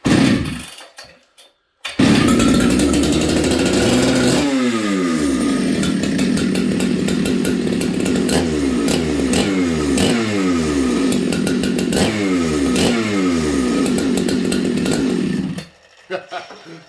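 A Jonsered 2094 chainsaw runs on fast idle, loud and close, with a steady rattling two-stroke drone and repeated rising-falling revving sweeps after a brief pause near the start, cutting off near the end.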